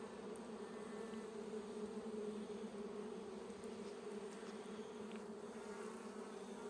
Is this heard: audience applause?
no